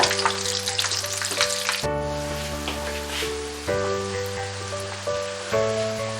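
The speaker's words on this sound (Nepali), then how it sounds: "यसलाई चलाउँदै दुवै तर्फबाट 10-15 मिनेट जति पकाउनु पर्छ।" Lakhamari, a Nepali sweet, fries in hot oil over medium heat, giving a loud, steady, crackling sizzle with occasional shifts as it is stirred and turned, with a faint tonal hum underneath and no talking.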